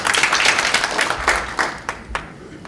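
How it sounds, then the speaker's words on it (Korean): Audience at a forum on public broadcasting applauding a speaker, a round of clapping that starts dense and thins into a few scattered claps before stopping. "박수 한번 부탁드리겠습니다"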